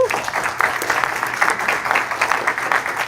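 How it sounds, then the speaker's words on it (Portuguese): A live audience claps in a quick, dense patter, moderately loud and steady, with faint voices mixed in around the applause. "Quero salva de palmas pra vocês, pô"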